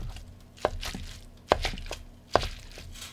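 A knife chops through bean thread noodles on a board: three sharp, evenly spaced thuds, each with a brief rustle, close up and with no talk.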